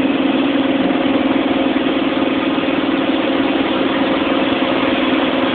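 A car engine hums steadily from inside the vehicle while driving, a loud, even low drone with no change in pitch. No one speaks.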